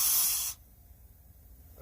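A short, loud hiss of leak-detection liquid sprayed onto a truck's air line quick-connect fitting, stopping abruptly after half a second and leaving quiet background.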